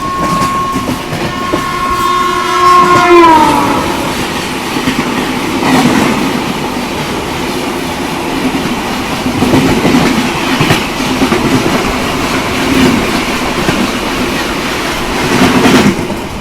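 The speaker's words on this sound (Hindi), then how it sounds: "यहाँ पर सामने से आ रही है 2424 डिब्रूगढ़ राजधानी एक्सप्रेस।" The 2424 Dibrugarh Rajdhani Express rushes past on a parallel track, loud and close, with a falling horn blast at the start, then sustained rumble and rhythmic wheel clatter.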